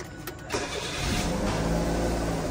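A Suzuki Alto VXR automatic car engine cranks briefly and catches, settling into a steady, close-up idle after a short start.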